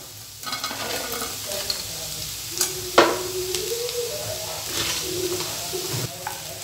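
Fried cauliflower is tipped into frying masala for Tamil-style cauliflower chilli and stirred, giving a steady close sizzle broken by spoon scrapes and a sharp clatter midway.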